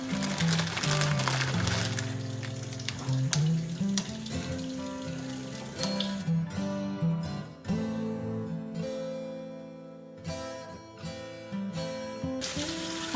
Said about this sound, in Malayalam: പൂരി പൊരിച്ചിട്ടെടുക്കാം.